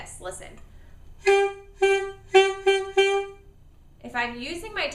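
A saxophone plays a short run of notes without tongue articulation. Four or five separate soft-edged tones sound close and fairly loud, and a person speaks briefly before and after them.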